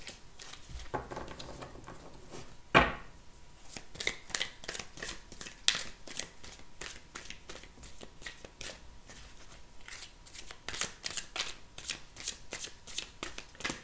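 A deck of oracle cards is shuffled repeatedly by hand, giving a close, soft riffling and patter of card edges in quick uneven bursts, with a sharper slap partway through and no speech over it.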